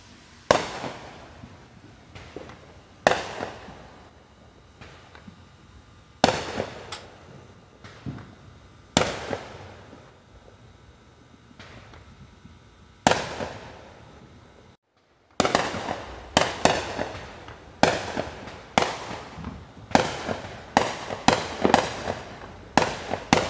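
Loud Fourth of July firework explosions in Wauwatosa burst one after another, sparse at first with long fading tails, then quickening into a dense crackling barrage.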